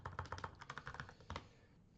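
Typing on a computer keyboard, a quick run of about a dozen faint, close key clicks in uneven bursts that stop near the end.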